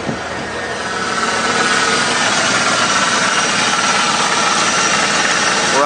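A Ford 460 big-block V8 fires up and settles into a steady, loud idle, running smooth with a constant close rumble and no talking.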